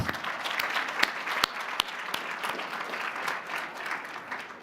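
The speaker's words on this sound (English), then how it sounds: "Big round of applause for both of them, please." A roomful of guests at a charity dinner event applaud, giving moderate, steady clapping with a few sharper individual claps standing out, sustained throughout without speech.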